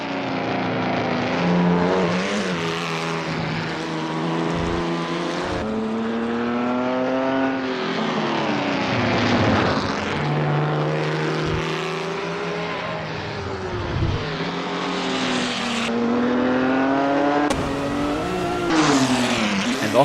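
Ferrari 275 racing engine in a racing video game set on a Paris circuit near the Arc de Triomphe, revving loud and steady with rising and falling pitch through gear changes, brief drops between shifts, continuous for the whole stretch.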